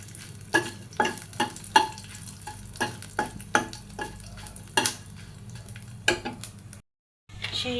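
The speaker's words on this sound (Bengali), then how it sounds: "দিয়ে দিলাম সরিষার তেল সাথে দিয়ে দিলাম পাঁচফোড়ন আর শুকনো মরিচ" Mustard oil sizzles in a hot kadai with panch phoron and dried chilies, heard as a low steady sizzle under repeated sharp scraping strokes of a spatula, with a brief silent gap near the end.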